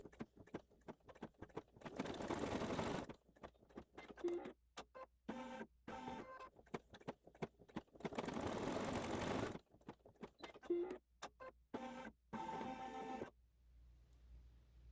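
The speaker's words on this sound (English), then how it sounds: "Next, it's going to stitch his little eyes." A computerized embroidery machine stitches a small mouse's eyes in glow-in-the-dark white thread on a quilt block. Its rapid mechanical needle chatter runs in long bursts broken by pauses and single clicks.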